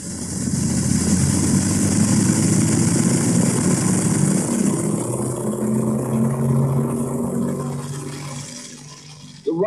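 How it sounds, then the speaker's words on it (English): A Wright Flyer replica's twin chain-driven engines roar with a loud, steady drone near the runway, easing slightly and fading toward the end. "the twin chain-driven engines roaring"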